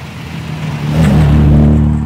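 A 1965-era Ferrari 275 GTB with a 3.3-litre aluminium V12 revs up close by, its engine note rising in pitch and loudness over two seconds with no talking.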